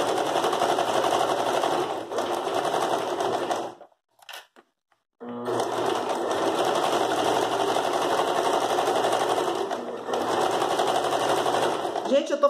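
A sewing machine stitches zigzag on a floral rug, running in a fast steady whirring buzz close up, pausing briefly midway before resuming for several more seconds.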